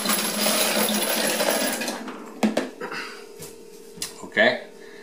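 Around a hundred brass .223 cartridge cases poured into a tumbler with pins make a dense, bright metallic jingling for about two seconds, followed by a few scattered clinks and rattles.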